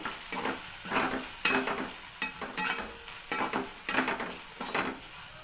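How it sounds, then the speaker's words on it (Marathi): Garam masala being stirred into cluster bean curry frying in a pan, with repeated scraping strokes of a spoon at an even rhythm over a steady sizzle, close and moderately loud, with no talking. "शाही गरम मसाला हे टाकून त्याला थोडासा हलवून दोन्ही सगळे मसाले मिक्स करून घेऊ"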